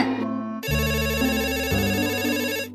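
A phone ringtone plays loudly and close, a bright electronic melody of repeating tones that runs almost the whole time, changing pitch pattern partway, with no talk over it.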